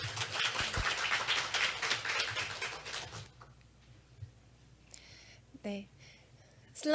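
Audience applause greets a speaker at a Korean forestry outlook conference session. It is a dense, steady patter for about three seconds, then stops abruptly, leaving a quiet room with a few faint shuffles.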